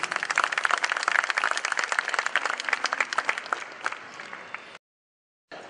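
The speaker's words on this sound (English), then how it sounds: "Can we please have a round of applause for Mrs." Audience applause at the Kala Ghoda festival in Mumbai: a dense, steady wash of many hands clapping for about five seconds, then a sudden cutoff into silence before a faint return.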